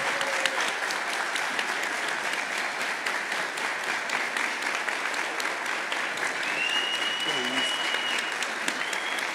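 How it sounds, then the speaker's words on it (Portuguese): Sustained, close applause fills a gallery talk for over nine seconds, dense and steady clapping from the audience with a few voices speaking beneath it. "um aplauso gigantesco para o Bob"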